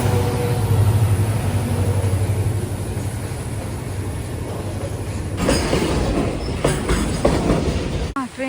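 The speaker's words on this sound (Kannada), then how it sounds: "ಟ್ರೈನ್ ನೋಡ್ಕೊಂಡು ಹೋಗೋಣ" A train passes along railway tracks, with a loud, steady rumble of cars rolling by, rhythmic wheel clatter and a brief wheel squeal toward the end.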